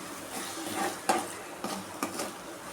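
Eggs fry with tomato in a pan as a utensil stirs them. A low sizzle runs underneath, and three distinct scraping knocks stand out against it.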